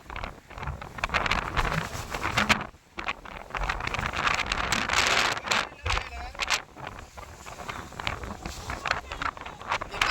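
Strong, gusty wind buffets a fishing boat out at sea during a storm, roaring and thumping across the microphone. Voices are faintly heard beneath the wind.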